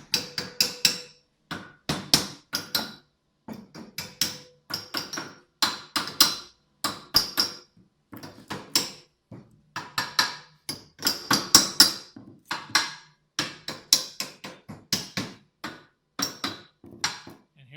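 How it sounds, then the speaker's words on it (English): A hammer knocks burrs flat on a welded metal gate, striking in quick clustered bursts of sharp metallic hits with short pauses between them. The blows are close and fairly loud, with no speech. "So what I do is get a hammer and I'll hit all"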